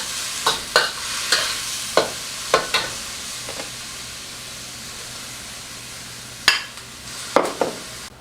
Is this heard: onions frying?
yes